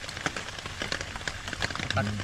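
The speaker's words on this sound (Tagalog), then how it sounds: "Buhos ng ulan." Heavy rain patters and hisses steadily on a surface nearby, with a voice speaking briefly over it.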